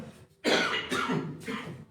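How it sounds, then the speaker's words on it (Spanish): A speaker at a church gathering lets out three short, raspy coughs in quick succession, close and fairly loud after a brief quiet moment. "perdón mi tos, si me da, solo espero que no me dé una crisis de tos"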